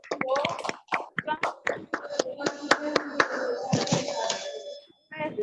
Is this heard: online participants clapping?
yes